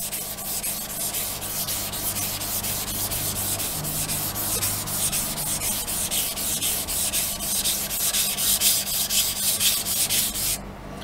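Steady, even scraping of a straight razor being honed on a Japanese natural whetstone, a continuous close rubbing rasp with no voices.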